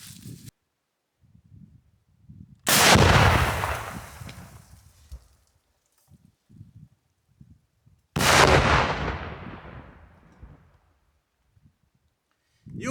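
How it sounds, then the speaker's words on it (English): An RPG-22 Netto rocket launcher firing and its round exploding: two loud, booming blasts about five seconds apart, each with a long rolling decay, and faint voices murmuring in the quieter gaps. "You could see that it exploded, but for some reason there was some delay."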